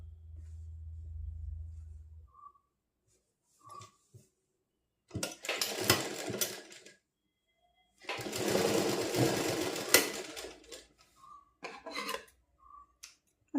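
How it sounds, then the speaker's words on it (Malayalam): A sewing machine stitches a pencil pant in short bursts, with two longer runs of rapid stitching and a few brief stops and starts between quiet pauses; a low hum opens the passage and no one speaks. "ഇവിടെ ഇങ്ങനെ നമുക്ക് ഈ സ്റ്റിച്ച് കയറി പോകാതെ അടിച്ചു അടിച്ചു കൊടുക്കണം"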